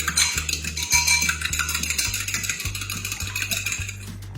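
Leftover egg yolks whisked quickly in a bowl, giving a rapid, even metallic clatter and swish of whisk against the sides, loud and close, with no voices.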